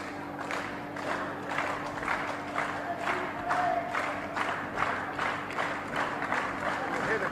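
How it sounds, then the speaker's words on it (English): A wrestling-match crowd cheers and claps steadily at moderate distance, a sustained roar with rhythmic swells, while a commentator talks over it. "Cheers from the crowd"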